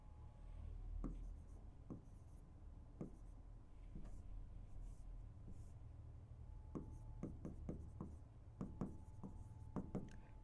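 Pen writing out math by hand on paper, faint scratching with irregular taps and strokes scattered across ten seconds, growing busier toward the end, quiet and close without speech.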